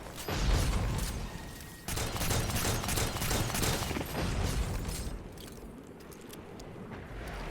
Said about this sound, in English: He's still gonna try and hit you with those shots.